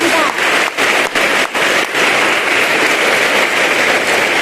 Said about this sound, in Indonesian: Tepuk tangan bagi Tuhan yang mengasihi kita.